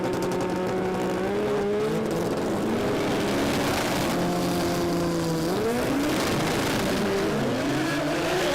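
Mazda RX-7 drag race car with a 13B rotary engine launching and screaming down the strip, a loud sustained rising and falling engine wail with gear-change dips, close and alone.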